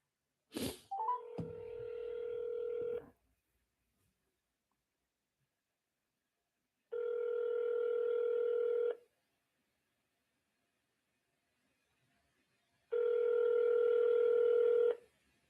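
Telephone number being dialed on a phone line: a short click, then three separate DTMF tone bursts about two seconds long each, spaced several seconds apart, clear and alone with silence between.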